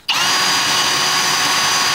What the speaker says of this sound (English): So I'm just going to drill a hole.